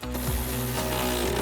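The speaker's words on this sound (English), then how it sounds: "we're going to grab the same ratchet and socket and the 13mm wrench and tighten our bottom bolt" A hand ratchet with a 13mm socket tightens a bolt on running-board brackets on a 2007-2018 Chevrolet Silverado 1500, giving quick close clicking under faint mechanical noise.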